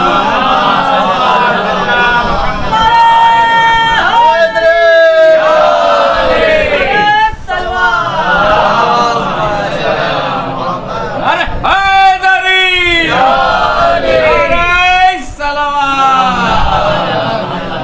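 A crowd at a Muharram majlis in Lucknow chants the Naara-e-Haidari religious slogan, loud massed voices rising in repeated call-and-response bursts that fill the hall for the whole stretch.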